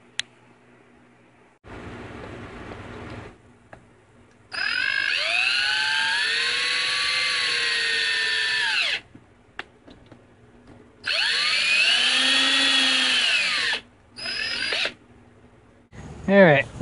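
A power tool drills in two long sustained bursts with shorter bursts between, up close, as the case halves of a Q9000 winch from an '89 Cherokee are bolted back together during a rebuild.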